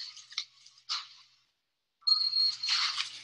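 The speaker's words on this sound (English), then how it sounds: "Can you hear that bell?" An inventory scanner gives short, bright electronic dings, a few quick chimes followed by a pause, then a longer ringing tone, faint and clean with no talk over it.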